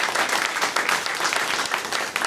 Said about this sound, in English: So yeah, we can clap for that.